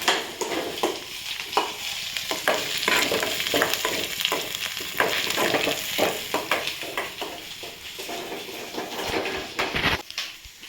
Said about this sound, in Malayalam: ഒരു പിടി മുരിങ്ങ അതൊന്ന് വാട്ടിയെടുക്കാം